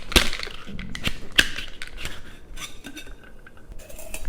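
Ice rattles and clinks in a Boston shaker as a daiquiri is shaken, a loud irregular run of sharp knocks and rattling that settles into a quieter shuffle.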